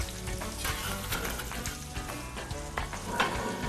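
Veal sizzles and crackles steadily in a hot pan for Brazilian feijoada, a dense, continuous frying noise with small pops throughout and no voices.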